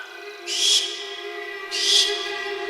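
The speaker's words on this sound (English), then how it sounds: "This terrifying cry belongs to the barn owl" A barn owl lets out two harsh, hissing shrieks about a second apart, each raspy burst lasting roughly a third of a second against a quiet background.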